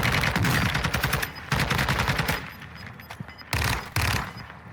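Rapid bursts of automatic gunfire from a firefight in the Warzone 2 video game, loud and close, with two long strings of fire, a quieter lull, then more short bursts.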